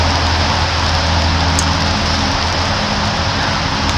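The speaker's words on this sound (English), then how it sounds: "It's raining." Dense, constant rain hisses loudly and evenly across the whole stretch, a broad wash of falling water with no voices.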